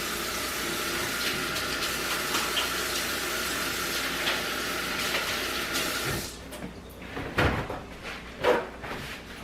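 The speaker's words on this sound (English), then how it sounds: "I'm going to wash my hands off." Tap water runs steadily as hands are washed at a kitchen sink while making focaccia bread, a continuous broadband wash that breaks off near the end into a few splashes and handling knocks.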